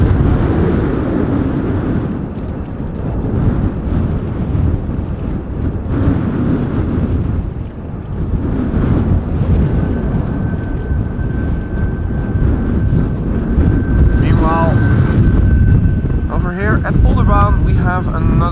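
A KLM Boeing 737-800 jet departs from Schiphol Airport with a continuous, heavy, wind-buffeted roar that fills the whole stretch, and a voice talks briefly over it near the end.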